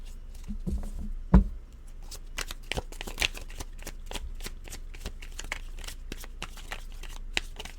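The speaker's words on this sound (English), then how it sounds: "Let's go ahead and pull a few more cards" Tarot cards are shuffled and pulled from the deck in quick, papery riffles and flicks. The soft slaps and patter come close and fairly quiet, with one louder knock early on.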